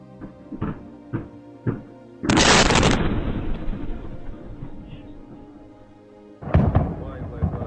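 A Russian ammunition depot in Crimea blows up with a loud, sudden blast that rumbles on for several seconds, following a few sharp pops and leading to another burst near the end, with voices briefly audible.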